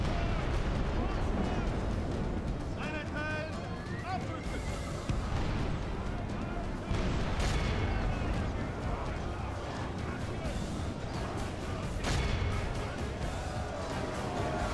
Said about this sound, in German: General, magst du vielleicht von dort weg, damit die Kanonenfeuer feuern können?